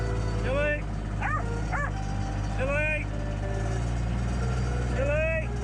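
A Jack Russell puppy on a rural property with cows, bulls, horses and sheep gives several high yips and whimpering barks in short bursts, set over steady low vehicle-like rumble and a voice talking.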